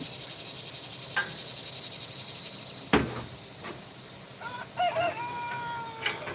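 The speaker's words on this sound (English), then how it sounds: "I think that chicken's got something wrong with it." A chicken crows somewhat off in the distance with a strained, oddly broken call late on, amid steady outdoor background noise and a sharp bang shortly before.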